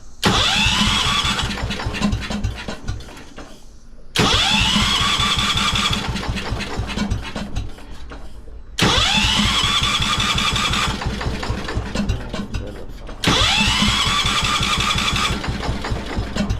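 A 1973 Wheel Horse garden tractor engine cranks and catches four times in a row. Each time it runs loudly and roughly for a few seconds, then falters and cuts out.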